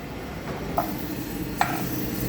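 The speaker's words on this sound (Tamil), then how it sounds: "மல்லி மிளகா வறுத்துட்ருக்காங்க" Coriander seeds and dried chillies dry-roast in a pan for sambar powder, with a low continuous rustle broken by two short scraping stirs about a second apart, and no voices.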